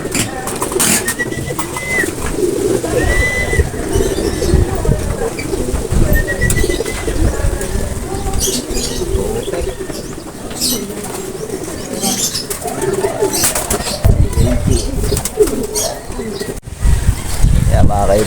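Racing pigeons flapping their wings as they arrive at an outdoor loft after a race, with steady fluttering and soft cooing under nearby voices talking.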